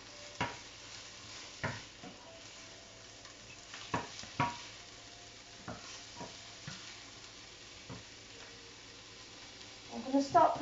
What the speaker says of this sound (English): we want to cook these mushrooms off